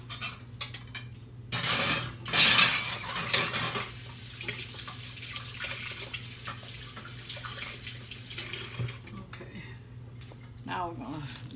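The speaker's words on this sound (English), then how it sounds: "now we're gonna mix this up in here." Utensils clatter and scrape against a bowl as food is mixed, with a brief burst of loud clinking early on, then softer intermittent stirring over a low steady hum, with a voice speaking faintly.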